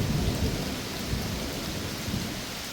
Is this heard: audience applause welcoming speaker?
no